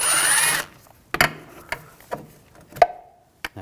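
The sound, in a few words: T25 socket removing screw on Audi S4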